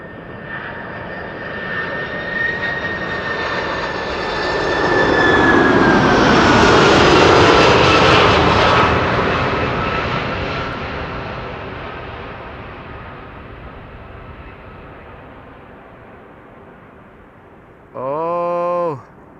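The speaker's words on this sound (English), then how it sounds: "This is how you land a 747." Boeing 747 landing at Amsterdam Schiphol, its jet engines roaring as it approaches and passes close, swelling to a loud broad rumble around the middle and then fading away, with a brief electronic tone near the end.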